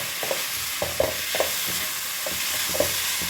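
Chopped tomatoes with onion fry in a pan, giving a steady sizzle with repeated stirring scrapes at a near, moderate level, and no one speaks.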